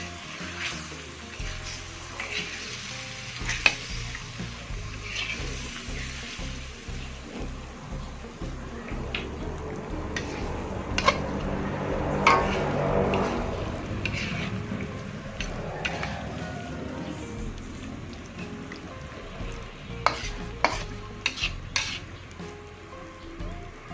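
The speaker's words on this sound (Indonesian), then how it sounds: "Kita aduk kembali." Acehnese white chicken curry being stirred in a pan, a soft sizzle with scattered scrapes and clinks of the utensil against the metal, steady and close, with no talking.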